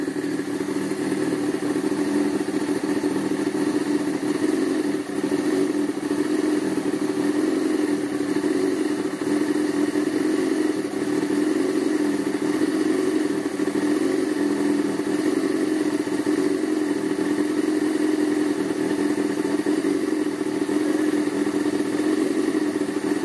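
A motorcycle engine runs steadily and loudly for over twenty seconds, holding a constant throttle with a dense mechanical drone and faint clatter, with no talk over it.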